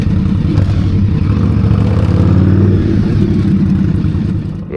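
Indian motorcycle cruising through New York City streets at night, a loud, close, steady engine drone with a deep low-pitched throb and slight rises in revs.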